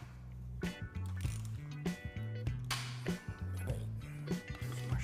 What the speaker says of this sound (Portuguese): Aqui a gente usa uma chave de 14 mm com o torque de